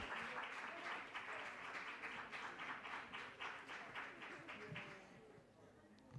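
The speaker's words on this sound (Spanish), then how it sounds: "Un aplauso para el nodo de Estados Unidos y Canadá." Applause from the audience at the Uniservitate global symposium, steady dense clapping that runs for several seconds and then thins out near the end, with a voice faintly underneath.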